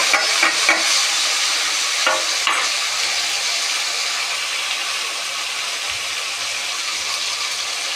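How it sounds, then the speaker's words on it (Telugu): Tomatoes and onion pieces hit a pan of frying fish and eggs, giving a steady, close sizzle with a few sharp stirring clatters early on before settling into a constant frying hiss. "ఇప్పుడు టమాటాలు, ఉల్లిపాయ ముక్కలు వేస్తున్నాయి."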